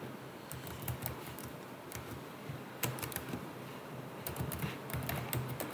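Computer keyboard typing while entering a random password into a PHP web form, bursts of rapid close key clicks separated by short pauses, steady and fairly quiet, with no speech.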